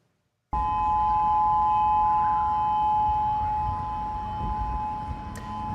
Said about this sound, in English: Here's actually a video of the tsunami warning sirens going off in Hawaii.